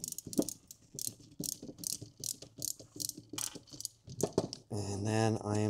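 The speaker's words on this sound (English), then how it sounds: "I'm going to use a screwdriver to put these back on" A screwdriver fastens bolts on a Fisker Ocean water pump, making a quick series of close ratcheting clicks, followed by a short steady whirr at the end.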